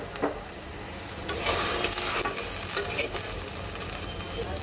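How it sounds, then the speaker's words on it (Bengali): Chopped shrimp going into frying ginger, garlic and onion paste, a sizzle that swells loudly and holds steady, with a few scraping stirs of a spatula, no speech. "এখন দিয়ে দেব কেটে রাখা চিংড়ি মাছগুলি"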